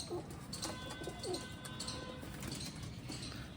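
Pigeons in a loft coo softly a few times amid a busy background of other bird chirps, fairly quiet and close.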